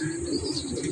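Racing pigeons just back from a long loop flight coo steadily and close, a soft continuous rolling murmur with a few faint chirps mixed in.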